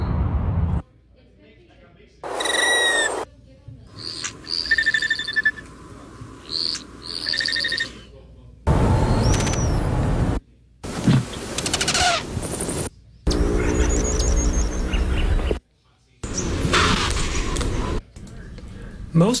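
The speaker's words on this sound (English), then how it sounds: "Male hummingbirds perform fantastic courtship dives for females. Each species makes a different sound." Tail sounds from diving male hummingbirds of several species during courtship displays: a series of separate bursts of chirps, buzzes and whistles, some sharp and rising, with short silent gaps between examples.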